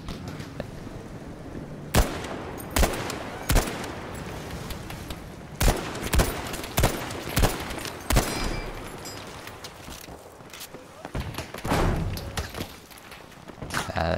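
Sniper and rifle gunfire in the World War II shooter Battlefield 5, with sharp, loud shots cracking at irregular intervals, some in quick pairs, over a dense rumbling backdrop of distant battle noise and footsteps, with no talking.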